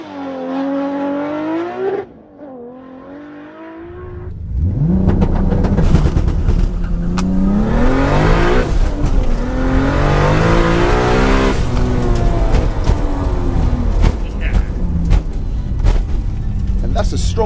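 A Nissan GT-R and a Toyota Supra launch in a drag race. Loud engines climb through rising, sweeping revs with gear changes, after a brief quieter stretch at the start, and a voice talks over the noise.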